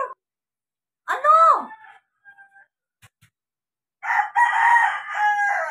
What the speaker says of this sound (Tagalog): Oh, may manok sa labas.